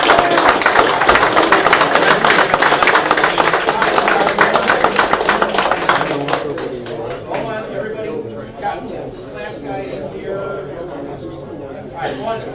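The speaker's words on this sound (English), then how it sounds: "let's hear a big round of applause for all the net controllers" Applause from an audience for the net controllers at a fiesta gathering, dense rapid clapping for about six seconds before it thins into scattered claps and chatter.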